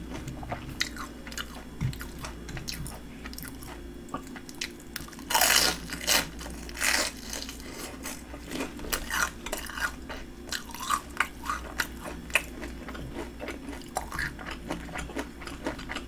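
Crunchy bites and chewing of shrimp tempura and salmon inari sushi, close and steady, with crisp crackling bursts and soft wet mastication continuing throughout without talk.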